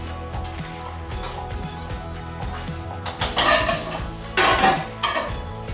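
Metal utensils clink and scrape against a pot as something is stirred, with a few louder clangs and bubbling in the background.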